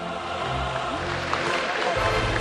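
Audience applause at the PDIP party's fifth national working meeting (Rakernas V), a dense, steady wash of clapping and crowd noise filling the hall at a constant level with no pauses.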